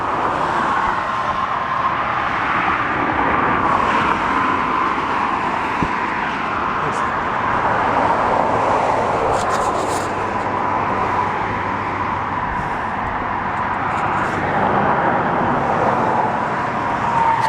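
Steady road traffic on the day before Thanksgiving, a continuous broadband wash of passing cars with occasional louder vehicles swelling and fading, heard outdoors at moderate distance with speech over it.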